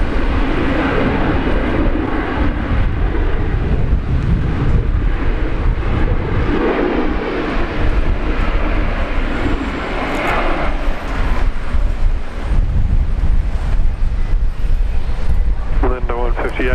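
A Boeing 737 lands on runway 19 left at Brisbane Airport, its steady jet roar filling the whole stretch under continuous talk from a spotter and air traffic radio.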